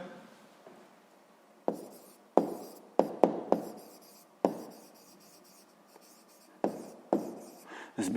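Pen or pencil writing out a sixth-grade math exercise answer on paper, a string of short scratchy strokes and taps with brief pauses, close and quiet, with no talking.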